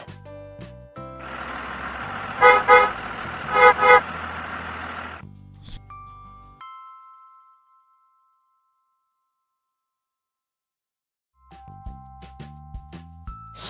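A bus engine rumbles and builds for several seconds, with two short bursts of horn partway through, then fades into silence before a brief musical jingle returns near the end.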